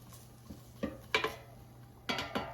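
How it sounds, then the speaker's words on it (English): An air fryer basket pulled out and shaved Brussels sprouts stirred inside, heard as a few close, light metallic clanks and scraping rattles in short bursts against a quiet kitchen hum. "let's take out the air fryer basket and let's mix the Brussels sprouts so they cook more evenly"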